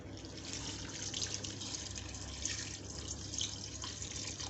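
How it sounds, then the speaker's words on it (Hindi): Water pours steadily into a pot of buffalo tripe curry being cooked Bihari style, a soft continuous splashing trickle heard close and fairly quiet. "अब इसके अंदर पानी डाल दूँगी।"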